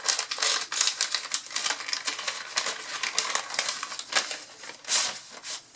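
An envelope is torn open by hand, with close, dry paper crinkling, rustling and ripping in quick irregular bursts that come and go.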